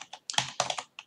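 A few quick keystrokes on a computer keyboard while writing Python code, clicking close and clear in a short, uneven burst.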